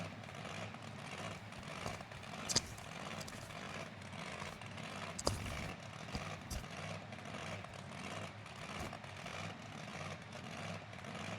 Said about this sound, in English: We've got those classic engine noises as well